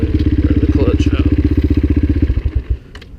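A 2003 Honda CRF230F dirt bike with an aftermarket eBay exhaust, its engine running loud and close with a rapid, rhythmic thumping pulse that holds steady then drops away near the end, with a voice heard over it.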